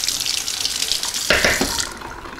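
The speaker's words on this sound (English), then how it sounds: "So let me rinse this off." Tap water runs steadily into a kitchen sink while something is rinsed, a close, continuous splashing rush that briefly thickens as the stream strikes the item.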